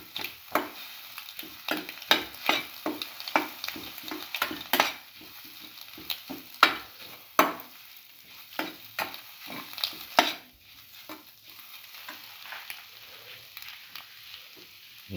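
Egg stir-fries with salt and black pepper in a pan. A spatula scrapes and clacks in quick, irregular strokes over a soft sizzle, close and with no voices.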